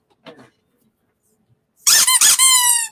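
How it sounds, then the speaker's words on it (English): A rubber duck is squeezed close to a microphone, giving a few loud, shrill, rasping squeaks in quick succession after a brief bit of quiet talking. "do not squeak them near microphones"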